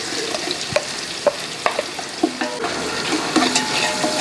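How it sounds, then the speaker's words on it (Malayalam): Two thinly sliced onions are tossed into a pan for vegetable biryani and stirred, giving a continuous sizzle broken by sharp spoon knocks and scrapes against the pan at a brisk, uneven rhythm. "ആ സവോളയോട് ഇതിൻ്റെ അകത്ത് ഇട്ട് കൊടുക്കാം"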